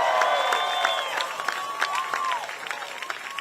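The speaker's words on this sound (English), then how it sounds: "Please join me in thanking, a round of applause for Lieutenant Governor Juliana Stratton." Crowd applause and cheering at a protest rally for a speaker, a dense wash of clapping mixed with whistles and shouts, fairly loud and steady before thinning toward the end.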